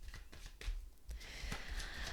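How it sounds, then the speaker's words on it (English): Tarot cards are shuffled by hand in short, quiet bursts of papery riffling and flicking, close and soft, with no talk. "Let's give you a little shuffle here."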